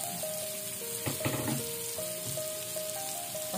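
White onion frying in a pan for tuna carbonara gives a steady, quiet sizzle, with brief louder stirring clatter near the middle and a faint tonal hum running underneath.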